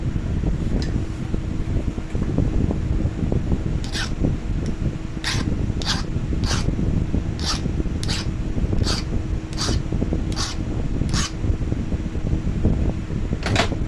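A Dremel rotary tool sharpens the tip of a flintknapping pressure flaker, giving a steady motor drone with repeated short, sharp grinding bursts as the tip touches the wheel at intervals.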